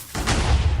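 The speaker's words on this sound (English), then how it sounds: "the TNT is but boom, big hole once again" A Minecraft TNT cannon detonates in a single loud, close, broadband boom that erupts abruptly and rumbles on for the rest of the moment.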